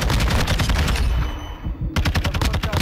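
Rapid automatic gunfire from a Modern Warfare 2 multiplayer match, loud and close, in dense bursts that pause briefly before another burst.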